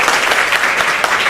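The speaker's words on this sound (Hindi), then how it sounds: "चलिए इनके लिए ताली बजाइए" Children in a government school classroom clap together, a dense, steady burst of applause filling the room, close and loud with no talk over it.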